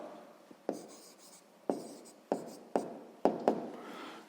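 A pen writes an answer on paper for a sixth-grade math exercise, making faint scratching strokes with several sharper taps as words and numbers are set down, close and quiet with no talk.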